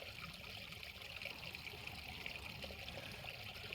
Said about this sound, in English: I'm mid arduous task of purifying some water with this MSR pump that I got.